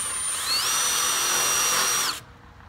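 A power drill drives a self-drilling screw into a Dominator jack, a loud rising whine that holds steady for about two seconds, then stops abruptly, with no talk.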